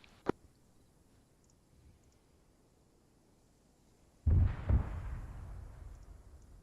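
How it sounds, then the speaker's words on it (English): Arma 3 artillery: a sharp distant crack early on, then a loud heavy blast at about four seconds that rolls into a long rumbling decay with a second boom inside it, over quiet battlefield ambience. "Artillery is very, very devastating."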